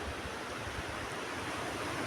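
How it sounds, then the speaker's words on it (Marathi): Continuous wash of moderate sea waves on the shore on a morning beach, a steady even hiss and rumble at a fair distance, with no talking. "आज साध्या लाटा आहेत साध्या म्हणजे तरी जोर आहे लाटांना"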